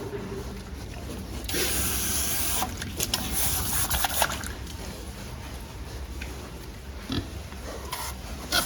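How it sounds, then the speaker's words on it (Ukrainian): A pig slurps and sucks water from a bowl-style drinker nearby, with wet gulping and rubbing sounds over a steady hiss. "Виходить, що цієї поїлки свинка прип'є водичку, як з мисочки"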